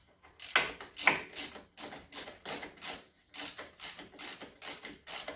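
A hand ratchet clicks in about ten quick, even strokes as the upper control arm bolt is driven in on a Polaris Sportsman ATV during a rear wheel bearing job. The metallic ratcheting is close and fairly quiet, with no talking.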